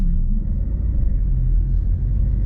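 Bus passing close outside a house, a heavy low engine rumble that swells and holds loud, with almost no talk over it.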